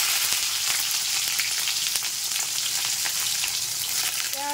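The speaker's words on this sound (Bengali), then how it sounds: "পেঁয়াজ, টমেটো, কাঁচা লঙ্কা সব বেশ ভালোভাবে ভাজা হয়ে গেছে।" Onion, tomato and green chilli frying in a pan, a dense continuous sizzle with crackling spits and some stirring noise, loud and close, no speech.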